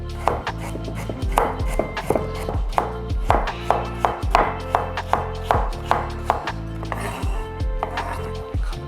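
A knife chops food into small cubes on a flat cutting surface, striking in a steady run of crisp, close taps at roughly half-second intervals, with no talking.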